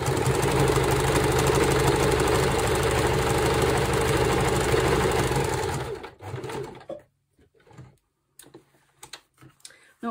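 Home sewing machine stitching a fabric slow-stitch journal cover, running steady and loud for about six seconds, then stopping and leaving a few quiet handling clicks and rustles.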